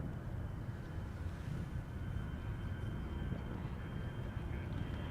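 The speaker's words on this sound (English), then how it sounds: "In the meantime, EasyJet to Manchester is taking off." An EasyJet airliner taking off for Manchester, a steady broad jet roar that holds at a constant level throughout, heard from a distance.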